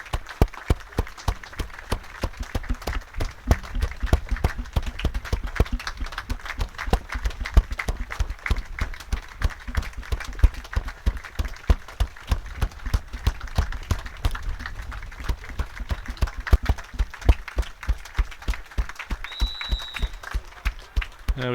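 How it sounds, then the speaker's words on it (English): Sustained crowd applause at a football match at Latimer Park, a minute's tribute for groundsman Graham Coles and Dick Dighton, with dense steady clapping throughout and a brief whistle near the end. "that was a minute's applause for groundsman Graham Coles and Dick Dighton"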